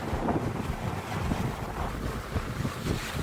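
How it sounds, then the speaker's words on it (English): Strong, cold wind buffets the microphone at a hilltop castle ruin in Austria, a constant loud roaring rush with gusty swells and no voices. "If this damn wind would be that cold and that strong."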